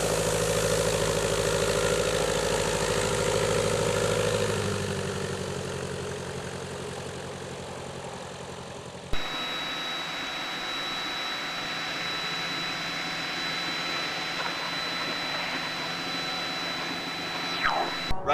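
A 1977 Piper Cherokee 140 light aircraft's engine running with a loud, steady broadband drone that shifts tone partway through, with no voices.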